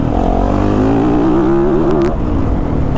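A 2022 Yamaha YZ450FX dirt bike revs up hard under throttle, its engine note climbing steadily, loud and close throughout.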